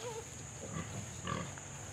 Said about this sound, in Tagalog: May mga baboy.